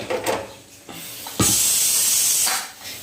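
A pressure cooker releases a loud burst of steam that hisses steadily for about a second, then cuts off, with softer hissy spurts before it; no talking.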